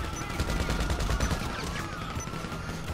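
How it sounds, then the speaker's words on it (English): Gunfire and rocket launches in a free-roam multiplayer video game: a steady dense barrage of rapid shots and whooshing blasts continues without pause, fairly loud throughout. "whoever's shooting fucking rockets needs to stop"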